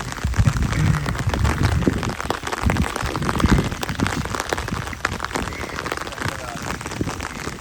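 Heavy rain falling outside, a continuous broadband patter and splashing on surfaces, fairly loud, with a voice talking faintly over it.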